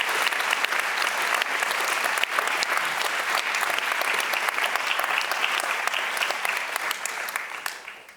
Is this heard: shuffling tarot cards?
no